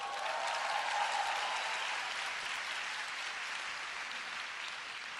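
A crowd claps steadily, a dense wash of applause that stays strong throughout and eases slightly toward the end.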